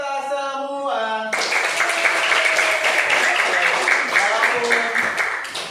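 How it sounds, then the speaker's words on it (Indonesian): A classroom group at a teacher-training lesson bursts into dense, steady clapping right after a brief tonal vocal passage, and the applause continues to the end. "beri tepuk tangan untuk kita semua"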